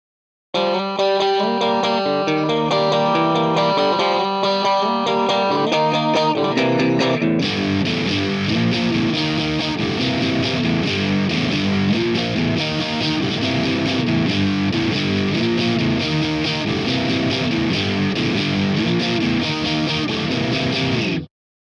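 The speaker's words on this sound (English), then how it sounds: "there was the pre-chorus and chorus played together for you again" Distorted electric guitar plays the pre-chorus and chorus riffs, opening with a cleaner chorused phrase before heavier, fuller chords take over at about seven seconds. The riffs continue loud and steady with no talking.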